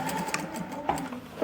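Domestic sewing machine stitching fabric for a plazo made from an old sari, a soft close mechanical whir with a few light clicks over a brief run, fairly quiet.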